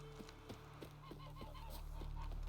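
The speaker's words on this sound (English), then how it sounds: "Goose." A goose in a Witcher video game featuring Geralt and Yennefer honks in a run of short repeated calls, faint and somewhat distant, alongside snapping clicks and a low rumble that rises toward the end.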